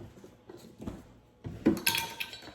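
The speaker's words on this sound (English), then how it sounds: "All right, so I'm gonna start mixing" Milk roll dough being mixed in a bowl after oil is added, giving soft scraping with irregular clattering and clinking knocks that grow busier and louder toward the end, with no talk.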